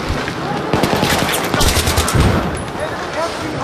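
Machine gun fire in the Battlefield 3 video game, a loud sustained burst of rapid automatic shots with dense crackling impacts, peaking in the middle and tailing off toward the end.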